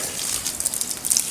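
Tap water running steadily in a simple outdoor laundry setup, a soft continuous splashing hiss, moderately close and alone without talk.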